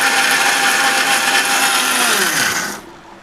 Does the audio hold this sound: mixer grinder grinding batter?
yes